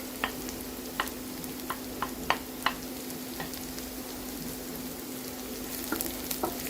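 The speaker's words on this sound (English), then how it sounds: "And let's fry our sliced onion. After a few seconds, let's add our minced garlic." Sliced onion and minced garlic fry steadily in a pan for spring rolls, a soft even sizzle with a low hum beneath and occasional light spatula taps, fairly quiet and close.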